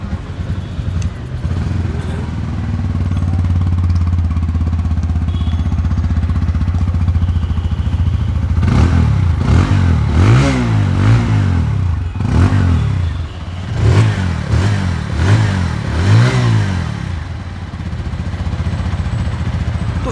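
A TVS Apache RTR 160 2V 2022 motorcycle engine idles steadily near the microphone, then a run of sharp throttle blips rises and falls several times before settling back to idle, loud and with no talking.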